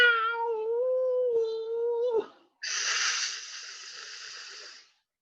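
A storyteller's voice imitates a cat's meow with a long, steady, wavering cry, then a brief pause and a breathy hiss-like yowl, close and alone.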